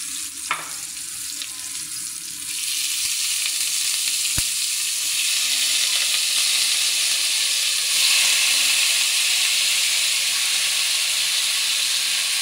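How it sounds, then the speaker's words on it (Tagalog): Chicken sizzles in a hot pan while being sautéed for tinolang manok, a steady, loud frying hiss that swells after a soft clack and keeps going. No one speaks. "Nagigisa natin yung chicken guys."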